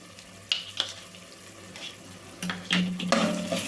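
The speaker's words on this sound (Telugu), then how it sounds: "ఇది కూడా మంచిగా పచ్చివాసన పోయేదాకైతే వేగాలండి ఆయిల్లో" Ginger garlic paste frying in oil for a chicken gravy, a low steady sizzle with a few sharp scrapes and spoon knocks against the pan, growing busier toward the end, with no one speaking.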